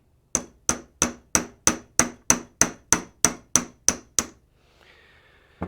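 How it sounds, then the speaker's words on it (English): A small hammer gently tapping a gear off a Hornby Class 25 model locomotive motor, twelve sharp, evenly spaced metallic taps in a steady rhythm, followed by a faint scrape. "it's just a case of tapping it out very gently with a small hammer"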